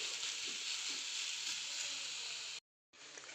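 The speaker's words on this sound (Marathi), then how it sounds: "आपले मुळे चांगले फ्राय झालेले आहे" Radish pieces fry in a pan for mula bhaji, giving a steady, hissing sizzle with faint stirring underneath, close and even, cut off by a brief dead gap before resuming.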